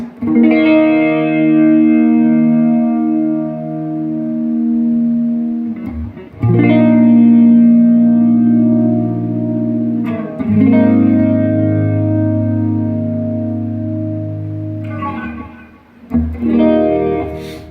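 Electric guitar chords through a flanger pedal, drenched in a sweeping flanger effect, sustained and loud, with a hollow, whooshing movement as each new chord is struck.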